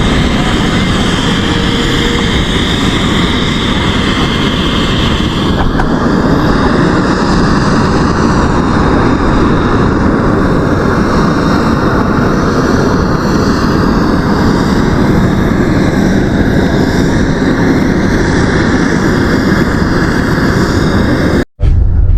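Steady, loud aircraft engine drone heard from inside a sightseeing flight over Las Vegas, a continuous roar with a slight shift partway through, cutting off abruptly at the end.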